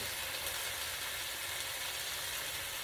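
Shrimp, about a pound, sizzling steadily as it goes into a pan of seafood paella with clams, mussels, snow crab and sausage; a continuous close, bright hiss with no talking.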